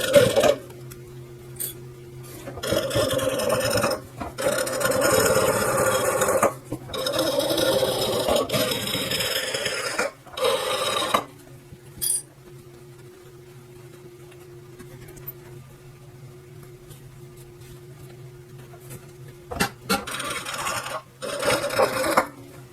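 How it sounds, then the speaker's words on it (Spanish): A sewing machine stitches all the way around the edges of a fabric glasses case, whirring in sustained bursts broken by short pauses and a few scrapes and clicks, up close in a quiet room. "Ok, vamos a empezar entonces a coser."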